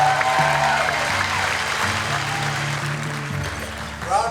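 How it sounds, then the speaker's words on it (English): A theater audience applauds as the Amazing Johnathan stage show opens. Moderately loud, broad clapping runs throughout with music underneath. "Round of applause for Joel Ozborn."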